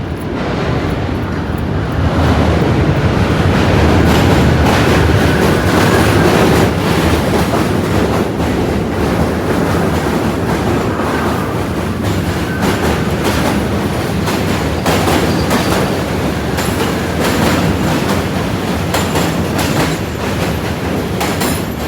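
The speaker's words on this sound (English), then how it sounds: "She's gonna start associating the sound of that train with a treat." A train crossing the Manhattan Bridge, a loud continuous roar of wheels and rattling cars with clickety-clack and occasional squeal, close and sustained throughout with no talk.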